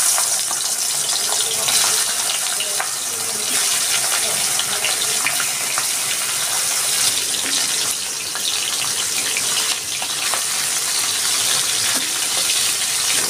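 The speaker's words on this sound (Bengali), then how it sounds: "এবার মাথাটা আমি ভেজে নিচ্ছি" A hilsa fish head frying in mustard oil in a kadai gives a continuous, fairly loud hiss that holds steady with small dips, heard close with no clear talk over it.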